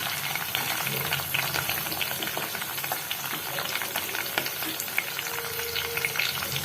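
Cashews fry in hot oil with green chillies and curry leaves for upma, giving a dense, close, continuous sizzle with brisk crackling pops throughout and no voices.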